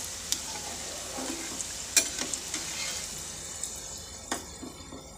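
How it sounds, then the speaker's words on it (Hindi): Vegetable and chicken rolls fry in hot oil over a low flame, giving a continuous soft sizzle broken by occasional sharp pops and crackles. "हमें फ्लेम स्लो ही रखना है क्योंकि तेल गर्म हो चुके हैं अब ये स्लो फ्लेम पे धीरे धीरे अच्छे से आसानी से पक जाएगा"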